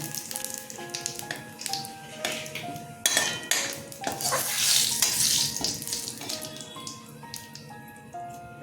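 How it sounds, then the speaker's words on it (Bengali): Dry red chilies and cumin seeds tempering in hot oil for a Bengali taro-greens dish with hilsa fish head, giving a crackling sizzle with scattered pops and metallic clinks of utensils throughout. "শুকনো লঙ্কা ফোড়নে দিয়ে দিলাম জিরে ফোড়নে দিয়ে দিলাম"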